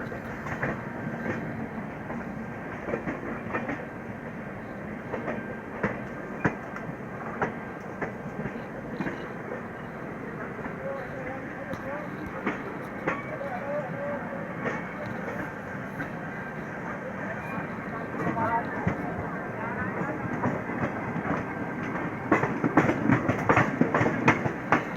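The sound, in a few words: Haridwar–Delhi passenger train running alongside moving train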